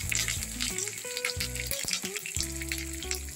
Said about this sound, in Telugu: జీలకర్ర, ఆవాలు వేసేద్దాం. కొన్ని ఎండుమిర్చి, కొద్దిగా కరివేపాకు,